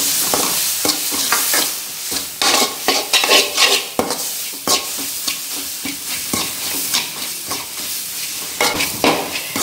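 Rose apple pickle masala sautéed with a couple of spoons of vinegar in a pan, loud spatula stirring and scraping in quick bursts over a steady bubbling sizzle, close up and without speech.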